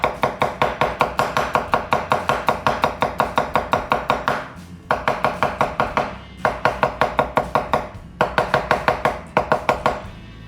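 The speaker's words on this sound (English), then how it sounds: "And we're going to chop up our garlic." Garlic chopped with a knife on a board makes a loud, close, fast run of even thuds that pauses briefly a few times and then picks up again.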